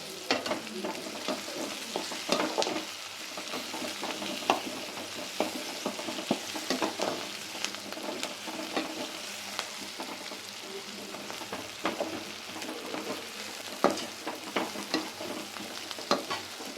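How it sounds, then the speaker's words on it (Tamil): Spices and turmeric sizzling in a pan as they are sautéed for a pepper tamarind gravy, with constant crackling frying noise and repeated scraping stirs of a spoon throughout, close and moderately quiet. "நல்லா வணக்கி விட்டுறலாம்"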